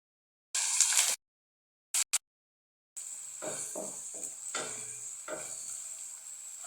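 Ginger-garlic paste frying in a pan for chana salan, with bursts of sharp hiss, brief silences, then a steady close sizzle broken by stirring scrapes.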